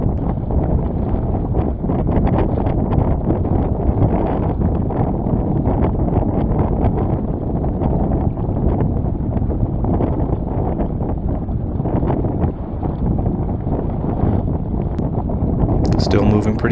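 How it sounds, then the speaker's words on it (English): While sailing a boat under jib in variable winds, strong gusts buffet the microphone in a continuous, loud, rumbling roar that barely lets up. "So a few gusts coming through."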